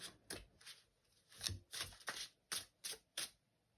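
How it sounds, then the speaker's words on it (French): Oracle cards are shuffled and drawn, giving a series of about ten short, soft papery riffles and slaps at close range in a quiet room. "je vais tirer des cartes complémentaires"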